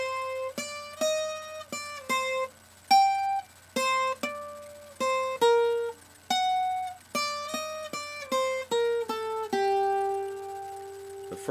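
Nylon-string guitar plays an ending figure, a quick run of 16th notes; clear, close plucked notes ring in a bright, rhythmic flurry with no talking over them.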